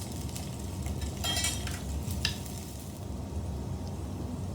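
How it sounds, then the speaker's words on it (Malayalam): Chopped onions and curry leaves fry in a pan, a steady close sizzle with a few brief stirring scrapes and utensil clinks, no one talking. "അരിഞ്ഞ് വെച്ചിരിക്കുന്ന സവോളയും കൂടി ഇട്ട് ഒന്ന് ചെറുതായിട്ട് ബ്രൗൺ ആവുന്നത് വരെ ഫ്രൈ ചെയ്യാം"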